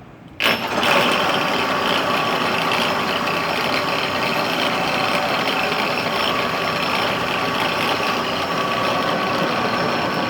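A radial aircraft engine catches abruptly after a brief quiet moment, then runs on steadily with a loud, dense, continuous roar right up close.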